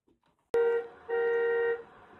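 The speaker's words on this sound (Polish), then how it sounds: "Trąbisz na kotki?" A car horn honks twice close by, a short blast followed by a longer one, against an otherwise quiet background.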